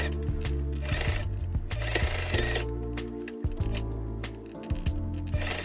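A sewing machine stitches a ruffle onto a tote bag with a half-centimetre seam allowance, its motor whirring in close, steady runs broken by short pauses and restarts, with no voices.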